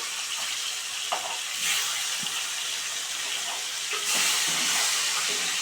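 Pieces of pona fish fry in hot oil in a pan, giving a loud, continuous sizzle and hiss that swells briefly twice, with faint clicks of handling and no talk.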